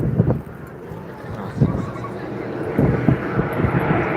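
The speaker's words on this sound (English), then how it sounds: "And you can hear those jet engines coming into effect" Jet aircraft engines roar at the Blackpool Airshow 2026, a loud continuous outdoor rumble with wind buffeting the microphone and a voice talking over it.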